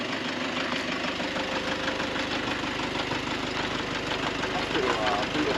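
A Toyota Hiace or Nissan Caravan van engine idles with no throttle applied, giving a steady, close, slightly knocking diesel-like rumble with an even pulsing rhythm.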